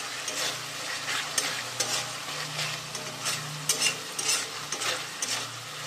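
Thick chutney is stirred in a pan on a gas stove, with a spoon scraping and turning it in irregular strokes over a soft, steady sizzle of oil. No one speaks.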